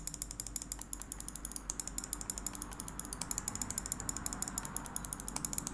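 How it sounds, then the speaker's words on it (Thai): Tt eSports Nemesis gaming mouse with 16 buttons, scroll wheel turned steadily so it gives a fast, even run of small ratcheting clicks, close up and fairly quiet, with no talking. "เดี๋ยวเรามาฟังเสียงกันดีกว่าว่าเสียงเจ้าตัวนี้มันจะเจ๋งขนาดไหนนะครับ"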